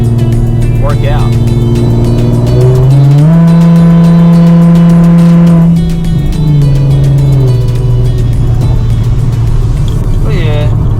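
A Nissan 370Z fitted with a Tomei exhaust holds a steady loud drone that climbs in pitch as it revs, then settles back down, with a brief quieter dip midway and some background noise near the end.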